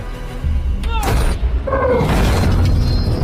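A Soviet T-34 tank fires its cannon at German Panther tanks in battle: a loud boom and shattering crash over a dense, rumbling din, with brief shouting voices mixed in.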